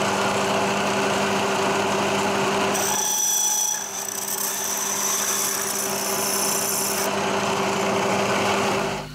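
A drill opening a hole out to 6.9 mm in soft aluminium gives a steady, loud grinding rasp with a constant motor whine, brightening midway through and running continuously for about nine seconds.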